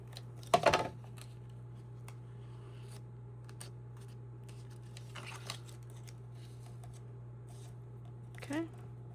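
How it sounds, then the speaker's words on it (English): Cardstock gift box being folded by hand: one crisp papery crease and rustle near the start, then a few faint handling taps and a soft scrape near the end over a steady low hum. "so I'm going to fold this one in, and then this side in"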